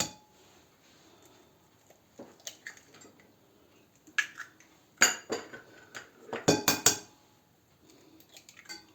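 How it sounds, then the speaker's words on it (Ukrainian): Quiet kitchen clinks and taps on a bowl of milk, then a few sharp cracking knocks and wet drops as three eggs are cracked in quick succession, with no talking. "До цього молока я вбиваю три яйця."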